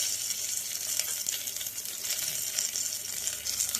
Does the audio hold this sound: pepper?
yes